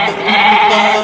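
Sheep bleat at a festive Eid clown party show, one loud, wavering, sustained cry lasting about a second, close and clear with nothing else over it.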